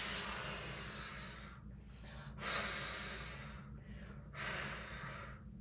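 A person exhales forcefully through the mouth three times, imitating the whoosh of blow dryers during a storybook yoga exercise. Each breath is a steady, airy rush lasting about a second, separated by short pauses and quieter in-breaths.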